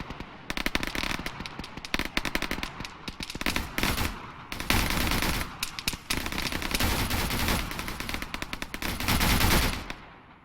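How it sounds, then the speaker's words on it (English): AI soldiers in the Arma military game on the Tanoa map lay down machine gun fire, a loud, nearly continuous stream of rapid bursts and overlapping shots that barely lets up for the whole stretch, with no voices. "These guys are doing it too. They're machine gunning."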